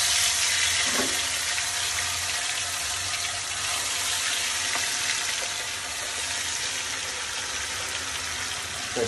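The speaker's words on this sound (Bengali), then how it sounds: "এখন হচ্ছে তেল গরম হয়ে গেছে, এখন আমি এটাতে মাংস দিয়ে দেবো যাতে তাড়াতাড়ি ভাজা হয়ে যায়।" Chicken meat fries in hot oil, a loud, steady sizzle heard up close that continues without a break, with occasional faint stirring sounds.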